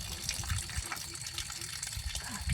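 Rainwater gushes and flows steadily through a full channel behind a house at the start of the rainy season, a continuous close, rushing wash with brief murmured voices underneath.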